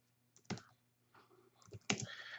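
Keys on a computer keyboard are tapped in short, faint bursts, a few quick clicks spaced across a couple of seconds in a quiet room.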